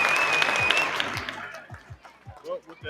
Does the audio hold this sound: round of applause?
yes